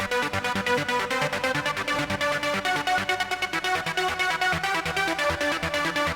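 A Serum-synthesized trance lead plays a driving, rapidly gated melody of bright, buzzy chords over a pulsing low end, loud and continuous with tight rhythmic stabs throughout.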